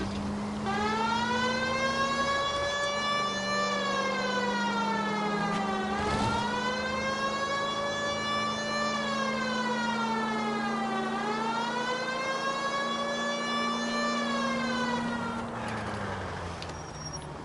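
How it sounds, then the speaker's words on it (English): A police car siren in the video game L.A. Noire wails loudly and continuously, rising and falling in long sweeping cycles over a low steady engine hum, with no talking. "I think we need a siren."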